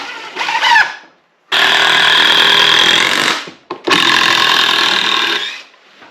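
A power drill drives 3-inch screws into the corners of a wooden woodshed base box, two loud sustained whirring bursts separated by a short pause, close and alone with no talk.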